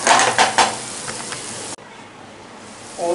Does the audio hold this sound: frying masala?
yes